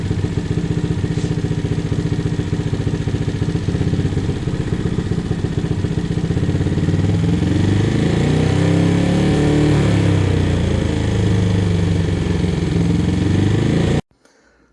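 A Honda Grom motorcycle engine runs steadily on a dyno during ECU tuning, a loud, continuous buzzing drone with slight rises and dips in pitch, cutting off abruptly near the end.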